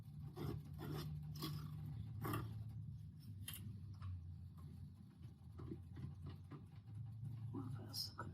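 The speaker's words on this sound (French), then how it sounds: "On va gratter le gingembre" Fresh ginger scraped on a grater in a kitchen, soft close rasping strokes repeating unevenly under a steady low hum, with a person talking over it.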